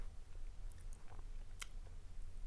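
Crisp crunching of Calbee chips from Hong Kong being chewed close up, with a few sharp bites standing out over a low steady background hum.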